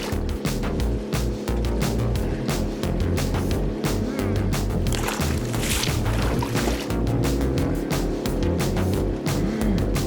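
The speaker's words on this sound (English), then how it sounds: "On Long Pond, there can at times be elevated volumes of boat traffic." A motorboat drones steadily on Long Pond, its engine rumble loud and continuous with choppy, pulsing texture and water sounds throughout.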